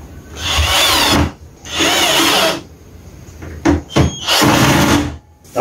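A power drill whirs loudly in three long bursts into reused wood, drilling screw holes for sink cabinet doors, with short clunks and knocks between them.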